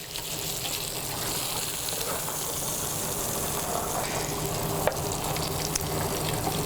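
Steak sizzles on a grill beside mushrooms with a steady, moderately loud frying hiss and faint crackles, and a single sharp click near the end.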